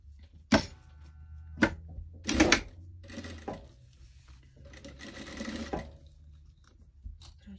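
Short, close bursts of stitching from a sewing machine working on a fabric travel bag, with scattered knocks and rustling handling of the material between runs.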